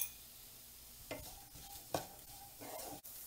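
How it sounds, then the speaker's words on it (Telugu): Vegetables such as green peas frying in a pan for paneer fried rice: a steady hiss with three or four scraping stirs of a utensil, close and alone. "అన్నీ ఫ్రై చేసుకోవాలి"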